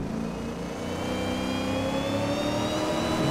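A Ford Mustang Boss 302 tuned to 650 hp drifts in Assetto Corsa, its engine holding a steady, loud mid-pitched drone with a rising whine as it slides through a long corner, with no talk over it.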